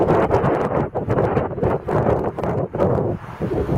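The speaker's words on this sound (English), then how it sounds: "So it's a windy day." Gusty wind buffets the microphone on a windy day beside a lake, a steady broadband roar with uneven surges and brief dips, loud and close throughout with no speech.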